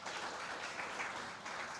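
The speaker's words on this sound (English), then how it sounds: "Please give a round of applause for Mr. Ky-Anh Nguyen." Brief applause from a conference audience at an ASEAN haze-free roadmap launch, a soft, dense patter of clapping heard from some distance, with no voices.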